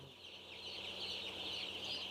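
Broiler chickens on a poultry farm cluck and chatter softly in a steady flock murmur, with no talking.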